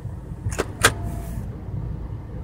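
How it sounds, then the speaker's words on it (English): A Renault Espace IV's electronic parking brake engages with a brief whirring motor sound, two short mechanical bursts close by inside the car, followed by a low steady cabin hum. "now the handbrake is pulled"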